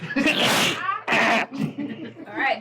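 A sharp sneeze bursts out amid brief talk and chatter at a tabletop role-playing game session, with another short breathy outburst following.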